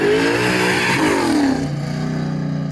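A 1969 Chevelle with a 1004 hp, 632 cubic inch big block Chevy crate engine, exhaust cutouts closed, revs loud and close, its deep growl climbing and falling in pitch before settling into a steady rumble.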